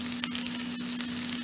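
Large pieces of capsicum and onion fry in a pan for soybean chilli, a brief, dense and steady hiss of sizzling oil up close with a faint hum beneath and no talking.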